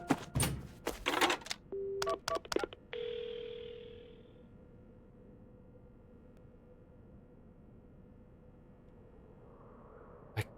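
Phone dialing in the Paranormasight video game: a quick burst of clicks and button beeps, then a sustained dial-type tone that fades, leaving a quiet hum.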